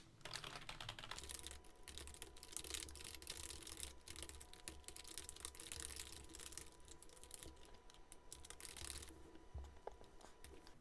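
Continuous computer keyboard typing while code is written to rotate a character in a GameMaker 3D project, a steady dense stream of close key clicks with no talking.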